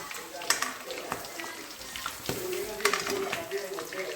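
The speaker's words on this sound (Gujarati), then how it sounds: "મરચા તળાય ચકાચક" Chilies fry in hot oil with a busy crackling sizzle punctuated by sharper pops and the scrape of stirring, close and fairly loud, while a person talks over it.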